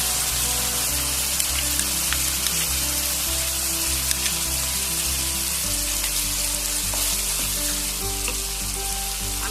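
Cashew paste goes into sizzling masala in oil for Bengali aloo dum, a loud, constant frying sizzle with occasional stirring scrapes, close up and with no talking.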